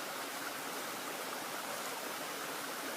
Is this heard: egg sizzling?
no